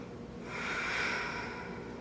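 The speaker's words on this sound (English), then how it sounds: "take a few breaths here just to breathe" A single deep, slow breath during a standing yoga pose, a soft airy exhale that swells and then eases off, close and fairly quiet.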